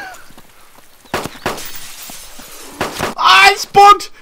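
Glass shatters in the video game DayZ, a bright crash that breaks out in two quick bursts near the end, after a stretch of scattered gameplay noise and thuds with a voice speaking in between.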